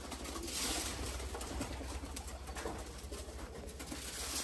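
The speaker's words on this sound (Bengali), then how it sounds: "শিমুলের কবুতর মানে প্রশিক্ষণ দেওয়া কবুতর" A trained pigeon at a pigeon-catching competition gives low, soft repeated coos beneath a steady wash of outdoor noise, with no one talking.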